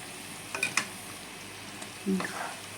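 Green chillies and a little more oil go into a pan of frying plantain curry, and the oil sizzles softly under occasional stirring and scraping, with a couple of brief louder clatters.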